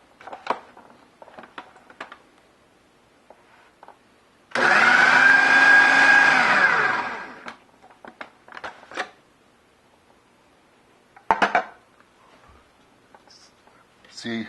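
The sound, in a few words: food processor grinding gyro meat into a paste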